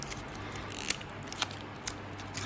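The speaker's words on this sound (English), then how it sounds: "unwrap the batteries first." Batteries for a smart temperature sensor are pulled from their packaging, with a few faint crinkles and sharp snips and clicks from up close on a quiet background.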